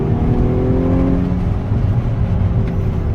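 A Volkswagen Golf 6 R with a DSG gearbox pulls hard, its engine a loud, steady droning hum with a constant low rumble heard from inside the car.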